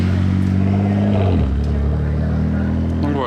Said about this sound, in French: Puis on a ça, un V12 et un V8 rugissant.